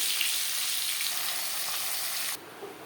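Fish pieces frying in hot oil in a wok for a rui fish curry, a steady bright sizzle that drops abruptly to a softer crackle near the end.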